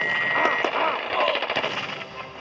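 Rapid bursts of automatic machine gun fire in a war video game rattle out in quick succession, sharp and close, with a voice talking briefly over the shooting.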